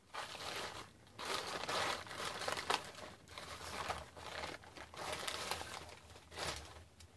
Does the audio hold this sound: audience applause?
no